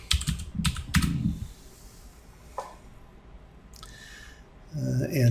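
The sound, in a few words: typing a password on a computer keyboard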